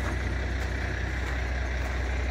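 An old school bus engine idles steadily with a low, rough diesel rumble, continuous and fairly close, with no voices.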